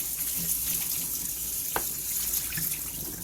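Tap water runs steadily into a sink while cabbage is washed under it, a close, continuous splashing rush with faint handling knocks.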